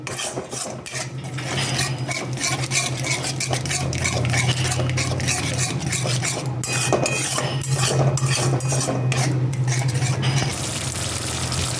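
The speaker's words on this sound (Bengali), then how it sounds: "আর সমানে নাড়তে থাকতে হবে না হলে" Cauliflower cooked down with yogurt gets stirred constantly in a pan over low flame, a busy run of scraping, rasping strokes against the metal over a low steady hum, close and fairly loud, with no voices.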